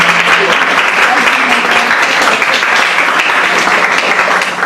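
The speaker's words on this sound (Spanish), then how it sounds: "también quiero pedirles un aplauso para ellos" Audience applause at a talk on social management and ethnic perspectives, honoring Brigido Urrutia and two companions, a loud, dense, steady clapping that fills the whole stretch and eases slightly at the end.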